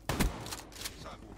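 Gunfire in Black Ops 3 online match: a sharp close burst at the start, then several further shots and rattling reports trailing off over about a second, fairly loud, with no talk.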